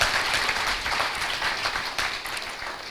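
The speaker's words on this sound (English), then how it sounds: "please extend a huge round of applause for this insightful panel discussion" Audience applause after a panel discussion on the new Indian dream, a loud, dense and steady wash of clapping from a large crowd throughout.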